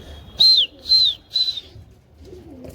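Three clear whistled coos in a row from pigeons, evenly spaced and fairly close, followed by quiet.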